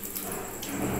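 Tal bara palm fritters bubble and crackle in hot oil, a brief close steady sizzle with light spatters.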